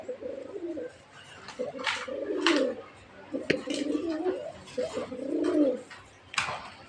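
A pair of red Raj Golla pigeons coo close by, a male and female exchanging repeated low throaty rolling coos in several bouts.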